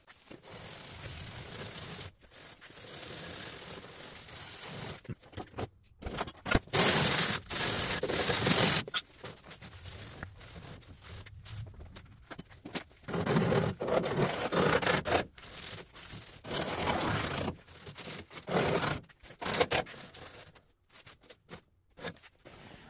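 Rust remover being wiped and rubbed off the rusty metal of a rare, long-stored Pontiac, giving intermittent scrubbing and rubbing strokes at close range that come in bursts with brief pauses.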